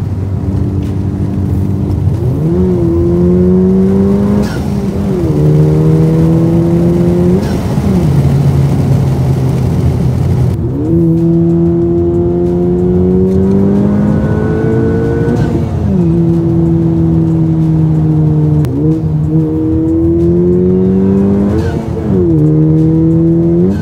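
A car fitted with a short shifter accelerates hard through the gears, its loud engine climbing in pitch, dropping at each quick shift, then climbing again over several cycles, heard close from inside with steady road roar beneath.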